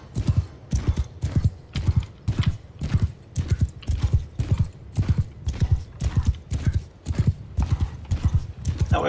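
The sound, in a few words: horses galloping in video game Mount and Blade II: Bannerlord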